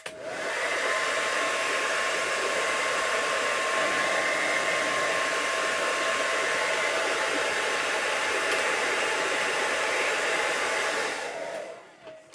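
A hair dryer blows on a drawing as a continuous loud whooshing roar, steady and close for about eleven seconds before cutting off abruptly.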